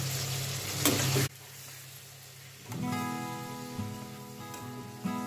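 Long-cut eggplant slices go into a pan of hot oil while cooking a sour Tangra fish curry, setting off a loud hissing sizzle that drops away suddenly, then returns as steadier frying.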